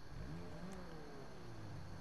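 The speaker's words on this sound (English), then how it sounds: "Engine on." A car engine in GTA V, an Itali GTO sports car started by remote, hums and revs steadily at mid pitch, fairly loud and continuous, with a rising and falling whine and no talking over it.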